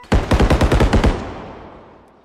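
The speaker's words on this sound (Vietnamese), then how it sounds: "tiếng súng to quá." Rapid automatic gunfire in the realistic shooter game Bodycam, a loud burst of about ten sharp shots in quick rhythm lasting around a second, then a long fading echo with no talking.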